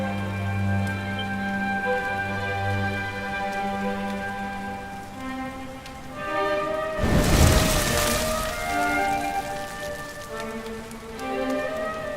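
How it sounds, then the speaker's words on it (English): Rain falls in the video game Dragon Quest XI S, a soft steady patter beneath orchestral music, briefly swelling into a louder wash of noise midway before easing back. "Looks like the rain's dying down."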